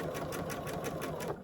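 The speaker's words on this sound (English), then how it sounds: "I'm just going to start with a leader to get my machine sewing" A domestic sewing machine runs steadily through a fabric leader while piecing a strippy baby quilt, its rapid, even stitching chatter close and continuous with no talk.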